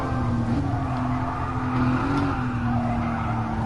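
A Mercedes AMG Formula One safety car runs around the Catalunya circuit, its engine droning steadily with shifting pitch and faint tire noise, heard continuously without talk.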